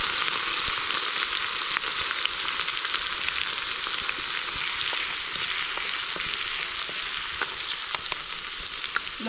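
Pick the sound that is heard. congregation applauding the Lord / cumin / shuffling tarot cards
cumin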